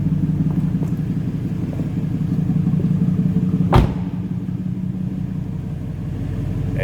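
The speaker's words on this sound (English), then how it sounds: "As you can hear, nice little rumble coming out of that 302." A 2013 Ford Mustang Boss 302 V8 engine idles with a steady low rumble, interrupted by one sharp click or knock midway, then continues evenly.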